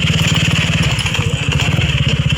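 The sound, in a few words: motorcycle engine running on a rough road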